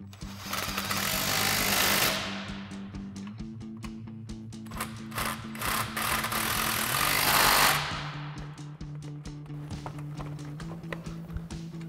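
Impact wrench with a 13 mm socket tightening bolts while reinstalling a Pedders eXtreme XA coil-over kit on a 1994-2004 Mustang; two loud, sustained hammering bursts close by, with lighter clicks and rattles between them.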